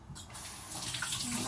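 A lemon is washed under a running kitchen tap, a steady close rush of water that swells slightly as the fruit moves through the stream, continuous and fairly loud with no talking.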